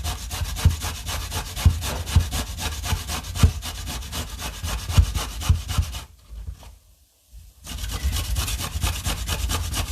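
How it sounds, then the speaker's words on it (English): Beetroot being grated by hand for a salad, a rapid, rough scraping rhythm of close strokes that pauses briefly near the end before resuming. "So we're grating the beetroot now."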